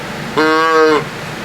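Rais~A~Ruckus slide adjustable deer call tucked into a jacket to muffle it, giving a single short, nasal bleat of about half a second that sounds softened and close, with quiet room noise before and after.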